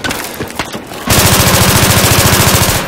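Battlefield 3 automatic rifle fire, an AEK or M4A1, cracks close and loud: a few scattered shots, then a long, fast, unbroken burst that runs to the end.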